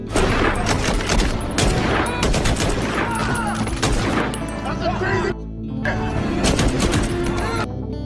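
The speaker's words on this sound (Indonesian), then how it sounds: "Martin langsung beradu tembakan dengan anak buah Omar yang berjaga di dalam" Heavy bursts of gunfire in a shootout, rapid volleys of shots with a brief lull before another intense barrage, loud and continuous.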